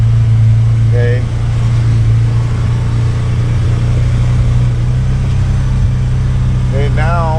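A Trail Rider 570 side-by-side on Sunf tires climbs a steep hill in two-wheel drive, its engine droning loud and close with a steady low hum while someone talks over it.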